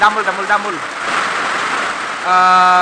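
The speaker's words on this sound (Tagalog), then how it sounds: "grabe ang ulan" Heavy typhoon rain at night pours in a steady, dense hiss, with a voice speaking briefly at the start and again near the end.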